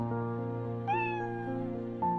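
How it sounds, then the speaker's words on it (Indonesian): A white cat meows twice, close by, each cry rising then falling in pitch, over a steady tonal background hum. "Suatu hari, Cian menyelamatkan seekor kucing putih yang hampir tertabrak mobil dan dia merawatnya dengan baik."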